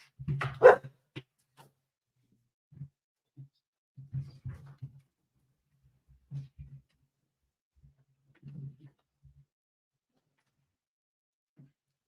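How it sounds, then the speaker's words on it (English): Dog barking in scattered single barks and short pairs, with one louder close burst at the start, then quieter yips spread across a quiet stretch. "he was gonna go nuts there, so I had to go get my dog"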